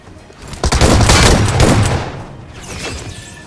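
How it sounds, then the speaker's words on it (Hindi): Burst of shotgun blasts in a BGMI firefight, loud and close, a rapid cluster of heavy booms fading into a softer trailing shot with no talking. "खैर इस पूरी स्क्वाड को तो मैंने शॉटगन से निपटा दिया"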